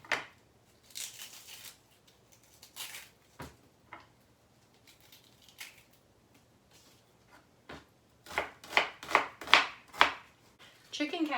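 Onion and green or red pepper are chopped on a cutting board with a knife in scattered sharp taps, sparse at first and then a quicker close run of cuts toward the end.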